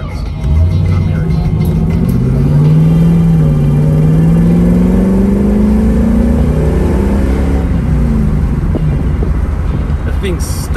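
A 1969 Chevrolet Camaro with an LS1 V8 drives along, its engine droning loud and close as it revs and pulls through the gears, with road and wind noise around it and someone talking over the top.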